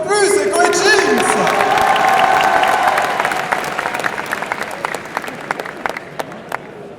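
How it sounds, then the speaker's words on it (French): An audience at a cosplay contest at an e-sports event claps and cheers loudly, with whoops over dense applause that gradually thins into scattered individual claps. "On peut les applaudir une fois de plus, Echo et Jinx."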